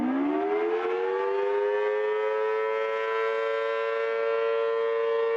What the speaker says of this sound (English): Here's what a dual tone siren sounds like.